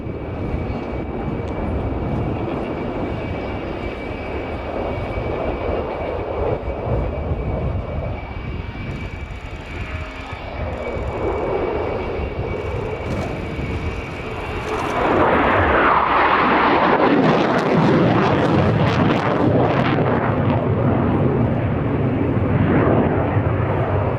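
An Italian Air Force Eurofighter Typhoon flies a display loop, its jet engine roar steady and distant at first, then swelling into a loud, close, broadband rumble for the last stretch.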